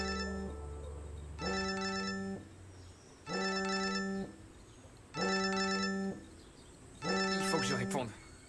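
A phone ringtone plays in repeated bursts of about a second each, five rings with short gaps, clear and close, a low hum under the first ring.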